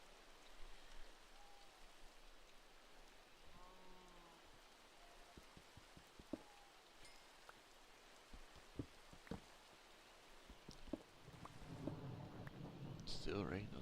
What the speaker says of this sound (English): It's still raining out there like crazy.